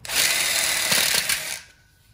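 A power drill whirs loudly and steadily as it drives extra screws into a wrap-around backsplash and split bar kit, then spins down and stops, with no talking.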